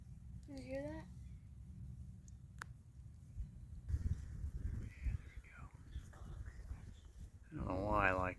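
Large birds give loud crow-like caws, one harsh call early and another longer burst at the end, while people talk quietly outdoors.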